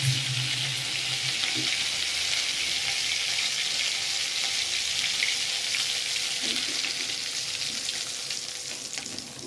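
Panch phoron spices, potato and tomato fry in hot oil with a steady, bright sizzle that stays close and even throughout, with faint stirring clinks.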